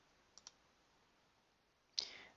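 A computer mouse clicks twice in quick succession while opening an assembly file in CAD software, followed by a brighter click-like burst; the sounds are close, crisp and isolated against a quiet background.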